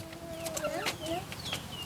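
Chickens cluck and squawk close by in a rural yard, brief rising calls scattered over a steady background.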